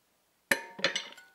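A radio unit is set down onto a metal OMT adapter over an O-ring, giving a sharp metallic clink followed by a couple of lighter rattling knocks, close and fairly quiet.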